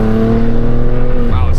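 A BMW G87 M2 with the S58 engine and an equal length mid pipe, accelerating with a loud, steady, rising drone heard up close before an abrupt shift in pitch near the end.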